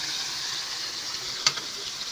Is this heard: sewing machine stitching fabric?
no